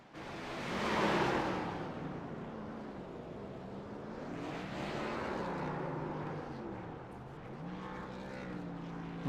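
NASCAR Cup cars rev hard through dueling burnouts at Charlotte Motor Speedway, their engines swelling, falling and rising again in long roaring waves at a distance.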